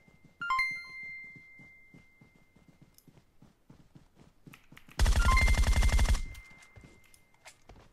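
Gunfire in the video game PUBG Mobile: a tight burst of rapid automatic shots lasting about a second, loud and close, preceded by scattered soft footstep-like taps and a brief chime.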